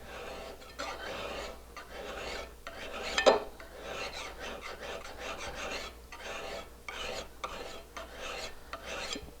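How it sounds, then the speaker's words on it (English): A card scraper clamped in a vise at a 45-degree angle is filed with steady back-and-forth rasping strokes, roughly a dozen even passes, close and alone with no voices. "I'm going to hold this in the vise and then file this at a 45-degree angle."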